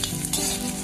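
Chopped onions and green chilies frying in a pan over medium heat for poha, a close, steady sizzle with faint stirring scrapes, no voices.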